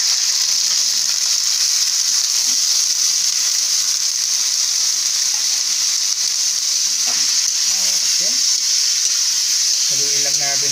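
Pork liempo sizzles steadily in a hot pan as it is sautéed, a loud continuous frying hiss with faint stirring and clinks of utensils, and a voice briefly under it near the end.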